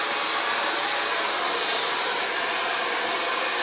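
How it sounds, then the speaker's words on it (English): A blow dryer with a concentrator nozzle blasts a steady, loud rush of air while round-brushing hair, close and continuous with no pauses. "I use this part of the blow dryer to get the hair under there."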